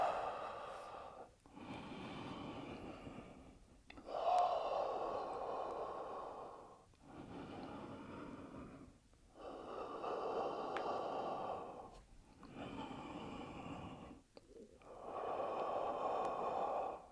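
Deep rhythmic breathing during a home workout exercise, a steady series of inhales and exhales repeating every couple of seconds, close and soft with no talk.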